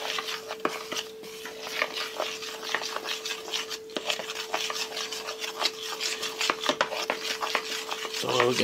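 Stirring of a kromeski mixture in a bowl, a steady scraping and rubbing of a utensil against the bowl that runs close and fairly loud for the whole stretch, with a faint steady hum underneath and no talk.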